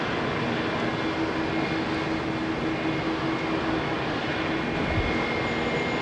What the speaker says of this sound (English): Super 80 Swissair.